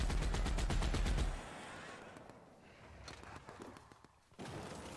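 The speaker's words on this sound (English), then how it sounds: "The sound of these weapons are great," Rapid automatic weapon fire in The Outer Worlds, a loud rattling burst for over a second, then quieter ambient shots and clicks before another loud burst at the end.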